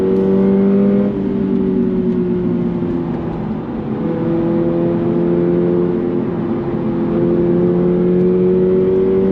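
A 2024 Subaru BRZ tS engine revs under throttle from inside the car, a steady loud drone whose pitch dips briefly then climbs smoothly and holds, with no talking.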